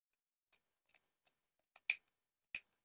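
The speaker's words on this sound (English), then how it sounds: "I'm going to snip to that stitch line" Scissors snip fabric toward a stitch line while sewing a flap pocket: about seven short, crisp cuts at irregular intervals, the last two the loudest, with silence between them.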